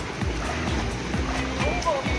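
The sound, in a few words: strong water current of a resort lazy river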